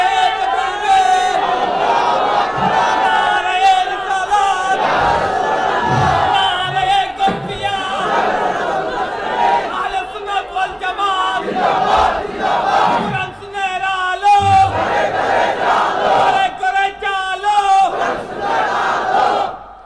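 A large crowd at a Bangla religious waz gathering shouts a slogan loudly in unison, with repeated rhythmic chanted calls and responses sustained over the whole stretch, close and loud.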